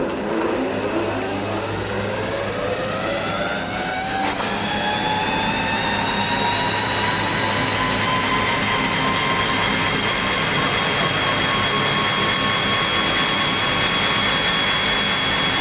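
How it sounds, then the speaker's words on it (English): A 12-frame honey extractor spins up from a start, its loud motor whine rising steadily in pitch and settling into a constant high hum with a low rumble beneath, close and without voices. "Push the gear lever to run the honey extractor."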